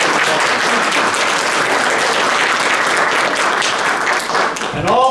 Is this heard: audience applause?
yes